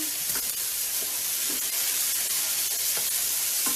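Butter sizzles and splatters in a hot frying pan, a dense, steady hiss with small pops crackling throughout, close and constant.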